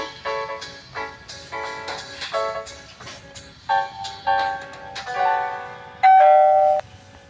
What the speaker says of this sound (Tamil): ஆக்சுவலி நமக்கு ஏதோ ஒரு கால் பெல் வந்துச்சு, அது என்னன்னு தெரியல.